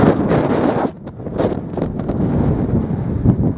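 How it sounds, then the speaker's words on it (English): Strong wind on a mountain in Snowdonia buffets the microphone in a steady roar, loud and continuous with brief gusty dips. "Pretty windy."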